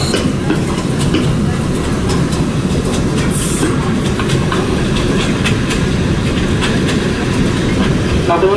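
Kominato Railway train running toward Kazusa-Nakano, heard from inside the car as a steady loud low rumble with faint rhythmic wheel clicks, no talking over it.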